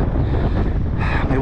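Gusty wind buffeting a microphone fitted with a furry dead-cat windshield on the Whitby piers, a loud, low, rumbling rush with uneven swells that lasts the whole brief moment.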